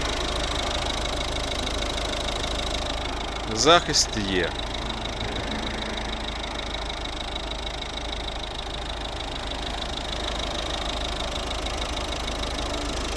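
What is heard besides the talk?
car engine idling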